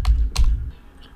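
Computer keys tap twice in quick succession while a file name is typed, close and crisp, then fading to quiet.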